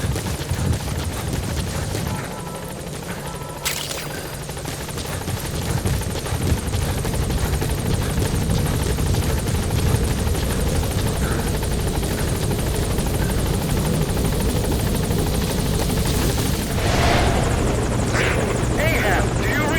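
Helicopter arriving at a landing zone in Metal Gear Solid V: The Phantom Pain, a loud, steady rotor roar and engine drone holding close and constant throughout.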